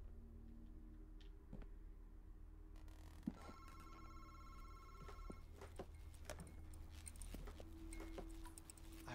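A telephone rings twice in the horror video game Madison, bright harmonic bell bursts amid low droning ambience, scattered clicks and knocks, moderately quiet with no voices.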